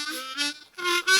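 A short harmonica lick played with thin, weak tone, two breathy reedy bursts of notes, faint and brief.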